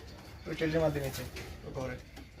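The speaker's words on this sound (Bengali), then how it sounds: "ভিতরে কি কি কবুতর আছে আপনাদেরকে দেখাই" Pigeons in a farm loft give soft, low cooing calls, a couple of rolling coos heard fairly close amid faint background noise, with a voice speaking over them.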